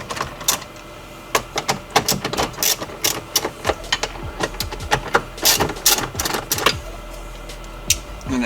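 A ratchet loosens the 10 mm bolts holding the car stereo in a Scion FR-S or Subaru BRZ dashboard, giving rapid, irregular bursts of sharp metallic clicks that come close and fairly loud, with no talk.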